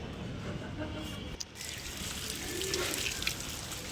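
A motor-pumped hose sprays water onto a wall, making a continuous close hiss and splash that grows a little stronger partway through.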